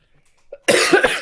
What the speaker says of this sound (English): As we get another cough